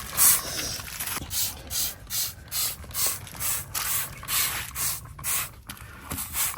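A pesticide sprayer hisses in regular, pulsing bursts about twice a second, with faint mechanical clicking from the pump.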